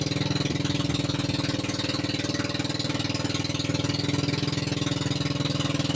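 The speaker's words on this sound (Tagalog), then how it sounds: "Isang makina yung andar" A boat engine runs steadily nearby with a rapid, regular chugging pulse and loud, rough low rumble throughout.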